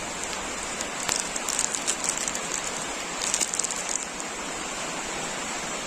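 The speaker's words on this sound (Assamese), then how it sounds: "বাহিৰত মানে বহুত বৰষুণ দি আছে" Dense, constant rain hiss pouring down, with scattered louder patters of drops striking a surface. No voices.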